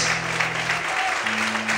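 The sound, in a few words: church congregation applause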